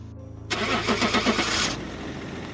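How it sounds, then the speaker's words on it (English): A car engine cranks and catches, then revs with a rhythmic pulsing for about a second before settling. It is fairly loud and close, with a low hum before and after, as a car starts and drives away. "I saw my car pulling away and driving off."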